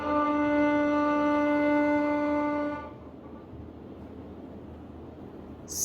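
A violin bowed over the fingerboard holds one soft, even note for nearly three seconds, then stops and leaves a low hiss of room noise behind.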